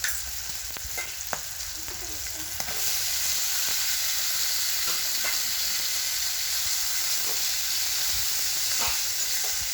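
Peas, curry leaves and coriander sizzle steadily in a hot pan for a quick kids' tiffin Maggi, a continuous frying hiss with occasional soft stirring clicks, close and even, with no talking.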